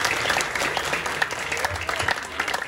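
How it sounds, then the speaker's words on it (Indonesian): A crowd claps steadily and loudly throughout a Balinese comedy performance, a dense, continuous patter of many hands close by. "tepuk tangan"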